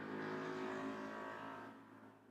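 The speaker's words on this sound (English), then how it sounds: "so many noisy cars that go past my house" A passing car heard from inside a house on a busy road, a steady engine roar that swells and then slowly fades as the vehicle moves away, with no one talking.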